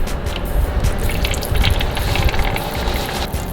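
Engine oil spilling from a loosened oil filter on a Nissan 350z into a drain pan, a close, uneven splattering trickle of liquid with small drips, steady for a few seconds.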